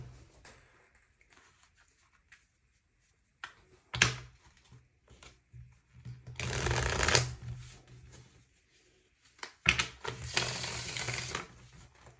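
Tarot cards are shuffled in two loud, riffling bursts a few seconds apart, preceded by quiet handling noises and soft card taps in an otherwise still room.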